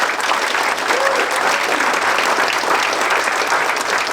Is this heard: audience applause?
yes